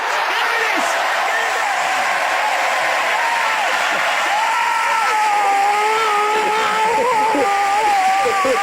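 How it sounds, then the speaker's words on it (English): A stadium crowd in a football game show roars continuously after a goal, a broad sustained wash of cheering with shouts rising over it, loud and steady throughout. "He's put it in, and the crowd roars!"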